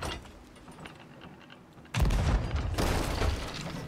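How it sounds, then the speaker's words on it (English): Fireworks launched in the pirate video game Sea of Thieves: after a quieter stretch, a sudden loud burst and crackling blasts continue densely to the end, with no talking. "All right, we still got 3 fireworks to shoot off."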